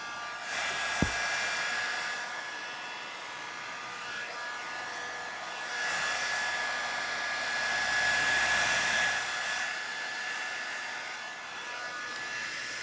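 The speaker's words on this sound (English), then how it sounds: "Hairdryer sounds in 3," A handheld hair dryer blows in a steady, close whoosh with a faint high whine, its airflow swelling and easing as it moves during a get-ready hair routine, after a sharp click near the start.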